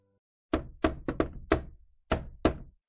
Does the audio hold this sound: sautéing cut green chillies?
no